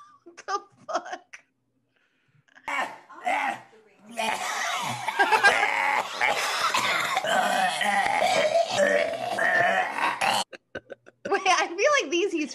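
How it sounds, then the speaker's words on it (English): A man coughs and splutters in a long, raspy burst mixed with laughter-like chokes, loud and close, framed by short stretches of speech. "Oh, why is he coughing on the ground?"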